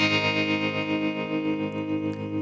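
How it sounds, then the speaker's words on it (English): A synth pad with a tremolo effect mixed in at about half strength; its pulsing starts fast and gradually slows, a steady sustained tone with distortion-like harmonics, heard alone and fairly close. "I've used a tremolo effect, and I've just increased the rate of the tremolo at the start of the sound"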